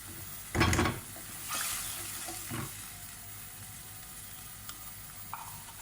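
Ginger-garlic paste with a splash of water fries in a pan. A loud hiss and sputter bursts up, then settles into a quieter sizzle with a couple of stirring scrapes, close and without speech.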